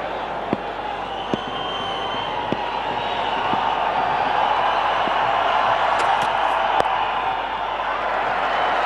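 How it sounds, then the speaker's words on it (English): A large crowd of Indian supporters at a one-day cricket match between India and Australia keeps up a continuous, distant din of cheering and chatter, with scattered sharp claps and knocks popping out of the steady wash of noise. "Plenty of Indian supporters in the crowd as well, making a lot of noise"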